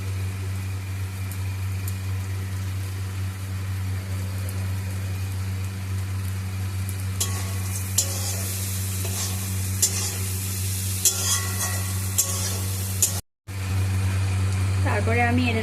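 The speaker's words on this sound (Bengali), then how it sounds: "করলাটাকে এর সাথে ভালো করে নাড়াচাড়া করে নিতে হবে।" Bitter gourd and potatoes sizzle and fry in a pan while being stirred, with a steady frying hiss, scraping stirs in the middle, and a constant low hum behind it.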